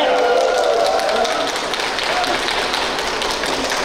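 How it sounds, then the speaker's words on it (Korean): A crowd at a Buddhist culture expo dharma talk claps steadily, a dense wash of many hands with cheering voices mixed in, loud and continuous throughout. "지금 여러분은 박수를 치고"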